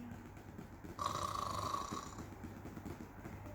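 A voice imitates a snore with one drawn-out, rattling breath over quiet background noise.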